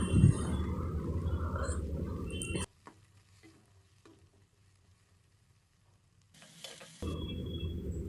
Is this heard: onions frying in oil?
yes